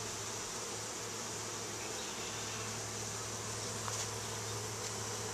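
Honey bees buzz around an open hive in a dense, steady drone, close and constant, with no one talking.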